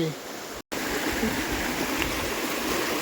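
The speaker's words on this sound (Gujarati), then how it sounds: "આ ખડખડતા વહેતા પાણીમાં પાવર છે ને આ જંગલ છે" A gurgling, briskly flowing stream runs through the Girnar forest near Junagadh, its steady close rush broken by a single brief dropout of sound early on before resuming at full level.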